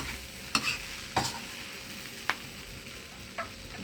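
Pad mee noodles being stir-fried in a pan: a soft, continuous sizzle with several sharp scraping clacks of a spatula against the metal, quiet and close.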